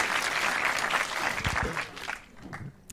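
Studio audience applause in dense clapping, loud at first and tapering off, with brief low thumps and faint voices near the end.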